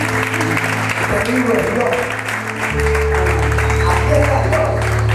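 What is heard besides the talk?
church congregation applause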